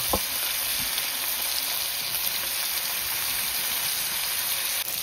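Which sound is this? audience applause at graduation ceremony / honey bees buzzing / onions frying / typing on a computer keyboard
onions frying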